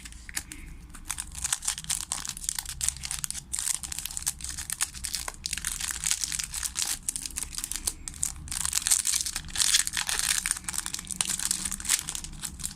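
A Süper Lig 2014-2015 football sticker pack wrapper is torn open and crumpled, producing continuous close crinkling and crackling with sharp tearing bursts over about thirteen seconds.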